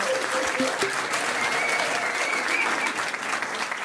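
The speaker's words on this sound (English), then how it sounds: "Give him a round of applause." Pub audience at a trivia quiz night applauding steadily, a dense, even wash of many hands clapping at moderate volume, with faint voices and whoops mixed in throughout.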